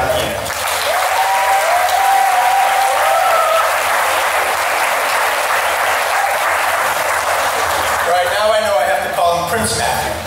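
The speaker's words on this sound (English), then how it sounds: "please give a huge round of applause for President John Keenan" Loud, sustained applause for President John Keenan at a Salem State University first-year day of service, a dense steady wall of clapping with a few voices and whoops near the end.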